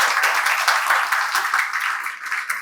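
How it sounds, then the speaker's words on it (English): Steady applause from an audience at a certificate distribution ceremony during an international chemical engineering conference, a dense sustained patter of many hands clapping throughout. "Please applaud them for their work."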